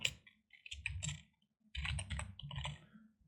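Keys clatter on a computer keyboard in two quick bursts of typing, close and fairly quiet, with a short pause between them.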